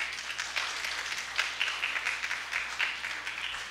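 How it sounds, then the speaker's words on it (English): Wedding guests applaud in a steady wash of clapping after the couple is pronounced married, moderately distant, with a few louder claps poking through and no talk over it. "Let us give them a round of applause"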